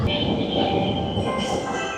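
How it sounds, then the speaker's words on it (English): A train rumbles by overhead in Japan, a loud continuous roar of wheels on rails with a faint metallic squeal running through it, close and steady. "Can you hear the train above?"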